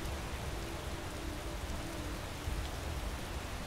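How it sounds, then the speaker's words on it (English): Steady rain in the fantasy game Skyrim, a dense continuous hiss of drops falling outdoors, fairly loud and even throughout with no voices. "Did it have to rain, though?"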